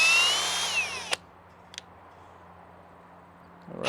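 A Ridgid cordless drill drives a GRK screw into wood, a loud whirring burst for about a second that stops abruptly, followed by a couple of faint clicks and near silence.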